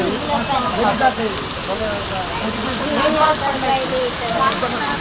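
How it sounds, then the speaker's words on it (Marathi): Rainwater pours steadily off tin roof sheets during a downpour in Pune, a continuous dense splashing hiss close by with no break. "पत्र्यातून पाणी पडायले."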